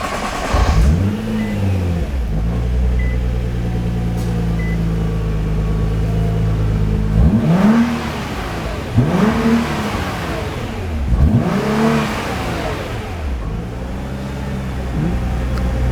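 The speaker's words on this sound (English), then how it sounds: "It's as much exhaust as a 6-cylinder could have." A 2015 Nissan GT-R NISMO six-cylinder engine idles cold with a deep rumble through the exhaust, then revs hard several times in quick, rising bursts that fall back to idle.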